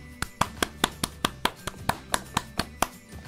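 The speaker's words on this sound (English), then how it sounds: "Let's give them a round of applause!" A round of hand claps after a children's bath time song, about thirteen sharp, evenly spaced claps in a steady rhythm, close and clear with no voices.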